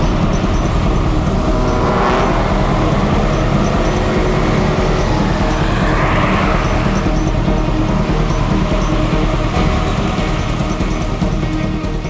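A car drives past in a loud, dense rumble of road traffic that washes over the scene for about twelve seconds. A whoosh peaks near the middle and no voices are heard.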